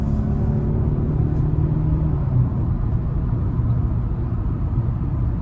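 Steady low road rumble and engine drone from a large 2024 Mazda CX-90 PHEV SUV driving in sport mode, loud and continuous with no voices.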